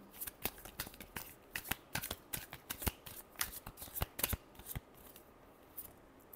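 Tarot cards being shuffled by hand during a reading, a quick run of crisp, snappy riffles and flicks in an uneven rhythm, close and fairly quiet with no voices.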